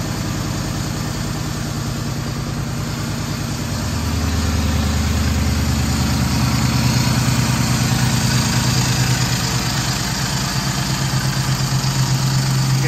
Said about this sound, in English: I hear some air intake because, like, I don't have my intake manifold.